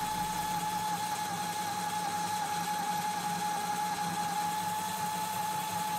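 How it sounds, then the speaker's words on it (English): An injector machine's open, unlubricated gearbox runs with a steady mechanical whine and hum, a constant tone over broadband rattle, close and unbroken throughout with no voices. "the gearbox is not enclosed, so it produces quite a lot of noise"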